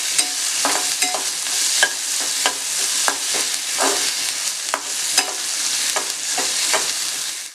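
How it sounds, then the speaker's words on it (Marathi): Chopped onion with green chillies sautés over low heat in a pan, a steady sizzle of frying broken by repeated clinks and scrapes of a stirring spoon, with no talking. "आपल्याला आता हा कांदा मऊसर होईपर्यंत परतवून घ्यायचा आहे"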